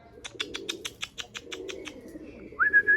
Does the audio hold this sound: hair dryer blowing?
no